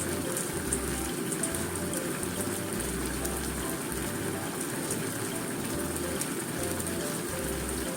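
Salted cucumber and cabbage are wrung out by hand over a bowl, giving a steady faint trickle and splash of dripping water up close, with a low intermittent hum underneath and no speech.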